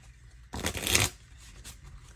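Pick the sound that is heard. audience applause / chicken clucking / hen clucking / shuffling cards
shuffling cards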